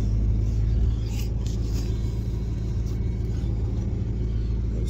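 A 1988 Chevrolet Monte Carlo SS T-top car drives along with a steady, loud low engine rumble and road noise throughout, slightly heavier at the start.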